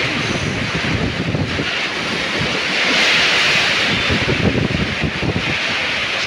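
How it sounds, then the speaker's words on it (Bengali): Stormy wind gusting and roaring around a friend's house during a storm, a steady broadband rush that swells in the middle, continuous and fairly loud with no voices. "সেই ঝড় বাতাস, সেই ঝড় বাতাস"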